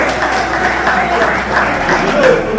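An audience applauds the founder at a swearing-in ceremony for the president of Grand Kasai Uni in South Africa, a short burst of crowd clapping mixed with a speaker's voice over it.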